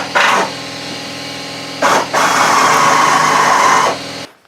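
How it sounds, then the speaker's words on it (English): A small whizzer wheel on a power tool spins up briefly, then grinds steadily for about two seconds, cleaning an engine's valve cover gasket surface during a gasket replacement. Loud and close, with no talking. "we got a little whizzer wheel here"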